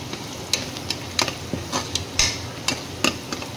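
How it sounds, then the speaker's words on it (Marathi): Agri Koli masala frying in a pan crackles with a low sizzle, punctuated by sharp ticks and taps of a spatula stirring at irregular intervals, close and fairly loud. "तर हे सगळं असं व्यवस्थित फ्राय करून घेणार"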